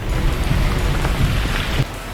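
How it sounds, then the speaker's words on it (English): Steady rain falls outside a cave entrance in Rockcastle County, Kentucky, a dense continuous hiss with a low rumbling undertone and no voices. "Still raining pretty steadily, unfortunately."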